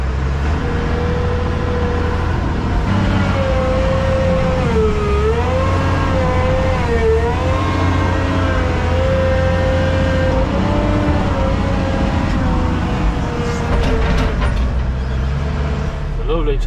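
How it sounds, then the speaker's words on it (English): A black Massey Ferguson tractor engine runs during silage work, a loud, steady close-up drone whose pitch rises and dips slightly as the revs shift. "Lovely tractor, that black massy."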